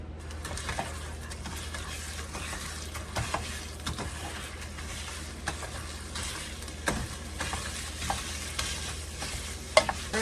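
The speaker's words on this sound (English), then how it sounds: "let's get this chorizo in our pan. We're gonna get this started cooking" Chorizo sizzles in a pan with a soft, steady frying hiss, punctuated by occasional scrapes and taps as it is stirred, close by and with no talking.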